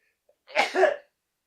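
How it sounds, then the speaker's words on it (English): A single sharp sneeze-like burst, close and fairly loud, with a faint click just before it and silence around it. "oh geez, I have a sneeze"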